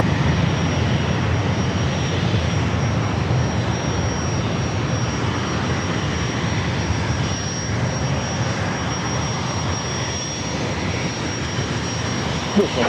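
An airplane takes off at San Diego airport, its engines producing a loud, broad, continuous roar that holds steady throughout.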